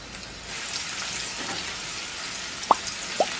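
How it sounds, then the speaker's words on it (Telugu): Onions frying with ginger, garlic and green chilli for a dhaba-style aloo capsicum curry, a steady soft sizzle with two sharp pops near the end. "ఉల్లిపాయ ముక్కలు ఈ విధంగా గోల్డెన్ బ్రౌన్ కలర్ వచ్చినంత వరకు వేయించుకోవాలి"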